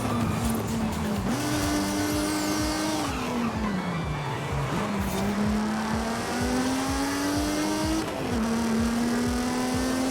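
A TVR car engine in the racing game Forza Horizon 5 drones loud and continuous, its pitch climbing through gears and dropping on shifts, with faint tire squeal under the revving.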